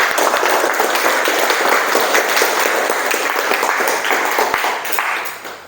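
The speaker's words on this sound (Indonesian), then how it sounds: "boleh beri tepuk tangan untuk diri kalian sendiri" A class of students claps for themselves at the end of a morning lesson, a continuous burst of close, bright clapping that holds steady and then tapers slightly toward the end.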